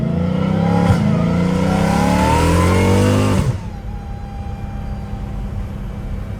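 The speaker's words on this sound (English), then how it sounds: "I love how you can hear the whine after you're done gassing it too." A straight-piped Dodge Challenger Hellcat Redeye's supercharged V8 revs hard with a rising supercharger whine, then cuts off, leaving a lingering high whine over a low idle rumble.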